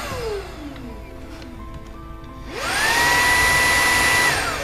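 An Electrolux Animal 800 vacuum cleaner's motor whirs up to a steady high-pitched whine after a quieter stretch, loud and continuous with a tonal hum.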